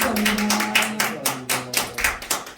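A church gathering's audience gives a short round of thankful applause in a steady, even rhythm. The claps are close and moderately loud, with a faint tone underneath.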